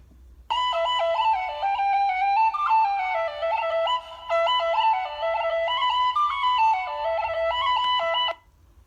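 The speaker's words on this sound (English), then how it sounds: "We're going to listen to something called a penny whistle." A penny whistle plays a bright, high melody of stepping notes for about eight seconds, alone and clear, with a faint low hum underneath.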